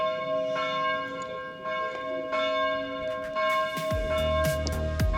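Church bells toll at a steady moderate distance in the French Chartreuse range, their ringing tones sustained throughout while close rustling and handling noises cut in over the latter half.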